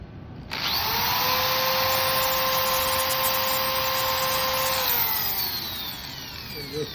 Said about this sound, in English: I'm going to drill both my holes now